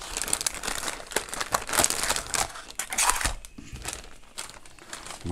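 A plastic packaging bag crinkles and rustles while heat-resistant grill gloves are unboxed, with bursts of loud crackling that ease into softer handling near the end.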